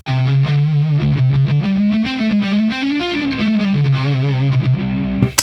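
A distorted electric guitar on the neck pickup plays a thick, warm lead line with rounded tone, notes stepping up and down continuously at close, loud volume.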